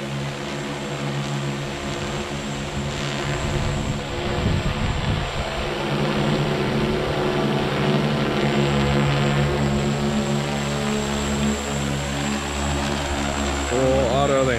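A Pixhawk Cube drone makes a full automatic landing, its steady propeller drone humming close and continuous, with a brief rise in rotor noise midway as it settles and someone speaking over it.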